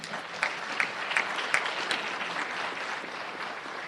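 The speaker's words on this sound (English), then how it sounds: "Will you please give them a round of applause?" A county gathering applauds honored workers' organizations with steady crowd clapping, a few sharper claps standing out early before the applause settles into an even, moderately loud wash.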